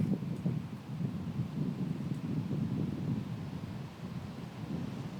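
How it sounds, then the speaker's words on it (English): Gusty wind blows across an open disc golf course during a professional women's tournament, a low rumbling buffet against the microphone that rises and falls without pause. "There you can hear some of the wind that these ladies are dealing with."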